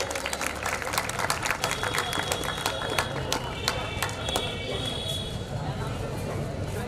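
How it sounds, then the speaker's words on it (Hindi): A crowd at a 2019 youth association award event applauds to welcome a recipient, with quick overlapping claps and a murmur of voices, fairly faint and distant in a large hall. "कृपया तालियों से स्वागत करें।"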